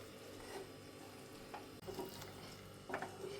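Fish pickle of mackerel, vinegar and asafoetida being stirred in a pan, a soft continuous scraping and sizzle with a few louder scrapes, fairly quiet and without talk.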